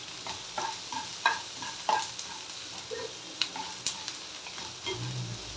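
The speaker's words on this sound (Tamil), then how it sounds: "எல்லாத்தையும் போட்டு நல்லா வதக்கணும்" Coconut and other ingredients for kara chutney sautéing in a pan, a quiet sizzle punctuated by regular spatula scrapes and taps in a steady stirring rhythm.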